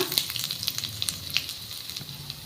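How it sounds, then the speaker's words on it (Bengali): Finely chopped ginger sizzles as it fries in a pan with dried red chillies, a steady crackling and popping hiss close by with no voices. "এবার দিয়ে দিচ্ছি কুচি করে রাখা আদা।"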